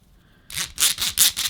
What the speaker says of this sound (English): I could just tighten this down a little bit, and it's got rosettes or ratchets in there basically